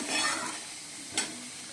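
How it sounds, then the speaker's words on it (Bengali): Cut bitter gourd sizzles steadily in hot oil in a wok, a soft continuous frying hiss with one brief stir-like scrape partway through, heard alone and close. "বন্ধুরা উচ্ছে ভাজা করবো উচ্ছেগুলো কেটে নিয়েছি ঠিক আছে কেটে ধুয়ে নিয়েছি আর কড়াইতে তেল দিয়ে দিয়েছি"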